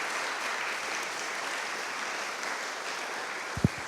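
A church congregation applauds, a steady wash of clapping at moderate distance that holds evenly throughout, with a brief low thump near the end.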